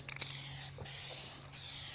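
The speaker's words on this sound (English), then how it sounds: "When spraying the color, or really any paint, hold the can 8 to 10 inches from the surface" Dupli-Color aerosol spray paint can hissing in short bursts, a near, steady spray broken by brief pauses, with no talking.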